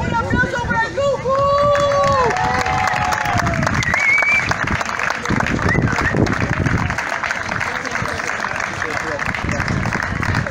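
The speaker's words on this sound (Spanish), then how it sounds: "¡Un aplauso para el Tucu!" A crowd at a sports final applauds a player, clapping and murmur mixed with nearby voices, whistle-like calls and shouting, steady and close throughout.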